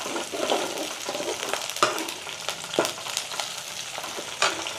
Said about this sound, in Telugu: అవి పచ్చిమిర్చి మంచిగా వేగాలి